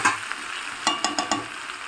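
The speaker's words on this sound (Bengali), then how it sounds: "ধনেপাতাটা মাংসের সঙ্গে মিশিয়ে নিয়েছি" Chicken meat being stirred with coriander leaves in a pan, a few soft scraping stir strokes over a faint steady sizzle, close and fairly quiet.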